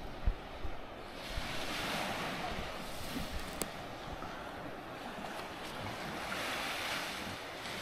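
Ocean waves at the beach in Patar, Bolinao, Pangasinan, as a steady broadband surf wash with wind buffeting the microphone, continuous and fairly near, with no voices.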